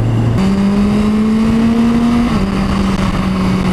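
A Kawasaki H2 motorcycle pulls hard under acceleration, its loud, close engine drone rising in pitch, then dropping abruptly at a quick-shifter gear change before climbing again.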